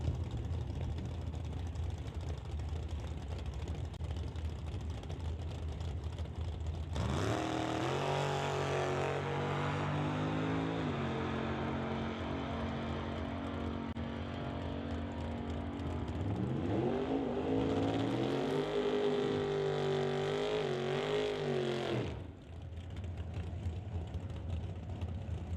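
A drag race car roars down the strip at an NHRA Summit ET Series event, a loud engine launch with rising, sweeping pitch lasting several seconds, then a second surge of acceleration before cutting off abruptly, over steady crowd and track ambience.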